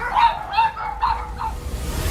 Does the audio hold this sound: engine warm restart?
no